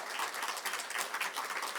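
A church congregation at a Korean Sunday worship service applauds, a dense, steady wash of many hands clapping at once in a large room.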